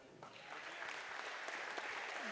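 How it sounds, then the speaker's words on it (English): Faint, steady applause from a gym crowd at a boys high school basketball game, North Fond du Lac at Laconia, honoring a player as he finishes his words, continuing for a couple of seconds. "After they applaud Beckett there as he's finishing up his words."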